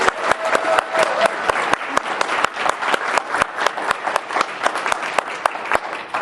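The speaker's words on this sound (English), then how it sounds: "And I would invite us to give a round of applause to Becky Stanton," Clapping from an audience at a college showcase, moderately loud and continuous, with some individual claps standing out sharply against the steady patter.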